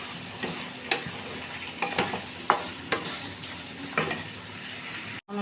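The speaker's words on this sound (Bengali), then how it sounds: "এখন আমি বেগুনগুলোকে দিয়ে অল্প স্লাইড ফ্রাই করে জল দিয়ে দেবো" Eggplant pieces fry with fish masala in a pan: a soft continuous sizzle punctuated by periodic sharp stirring scrapes roughly every second, nearby, with no speech.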